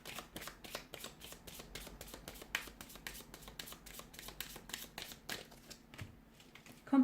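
Tarot cards being shuffled over and over, a steady run of quick papery riffles and soft slaps, close up with no talking.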